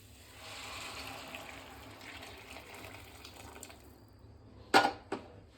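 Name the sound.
pouring boiled water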